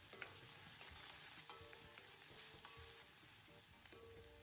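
Finely chopped onion frying in oil with cumin and fennel seeds, a soft steady sizzle with occasional stirring scrapes, faint and close with no voices.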